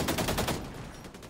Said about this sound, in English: these shotguns are crazy.